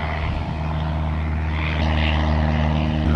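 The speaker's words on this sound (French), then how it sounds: "Je vais attendre que l'avion passe pour continuer," An airplane passes overhead outdoors as a loud, continuous low engine roar that holds steady throughout with a slight swell, and no voices.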